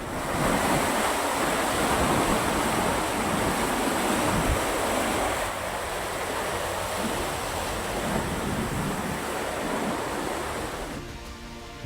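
A loud, steady roar of the flooded Moj River in Gujarat after heavy rain fills the whole stretch, broadband and unbroken, with a low churning rumble and no voices.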